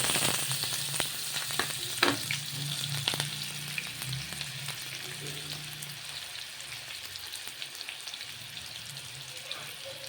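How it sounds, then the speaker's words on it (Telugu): A large onion sizzles and fries in hot oil for a mutton and fenugreek leaf curry, a steady close crackling hiss with occasional louder pops and some stirring. "ఆయిల్ వేడిందండి మనం పెద్ద ఒక పెద్ద సైజు ఉల్లిపాయ అండి ఇది"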